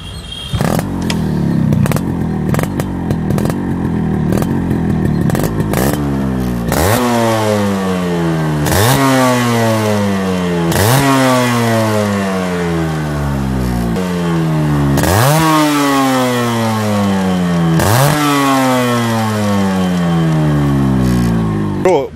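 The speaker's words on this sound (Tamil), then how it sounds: "இப்போ நம்ம RXZ எக்ஸாஸ்ட் நோட் நம்ம கேட்போம்" A restored Yamaha RXZ motorcycle fitted with parts imported from Malaysia revs loudly up close, its exhaust rising and dropping through repeated throttle blips after a rough idle.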